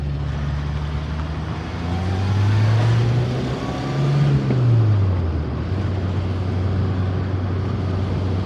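A classic Italian mid-engine sports car drives along, its engine droning loudly from inside the cabin as the revs rise, dip and climb again through the gears, with road noise underneath.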